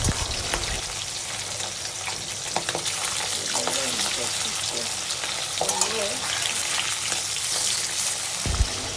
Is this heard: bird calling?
no